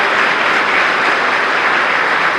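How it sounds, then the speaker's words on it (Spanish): A dense, steady wash of applause from a conference audience, clapping loudly and continuously throughout. "le brindamos un fuerte aplauso"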